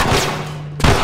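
A single loud gunshot fired in The Last of Us, a sharp close blast with a brief ringing tail and a second burst of noise right after.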